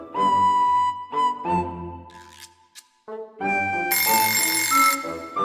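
A telephone rings in a Filipino animated cartoon, several loud electronic ringing bursts with short pauses between them, heard alone without talk.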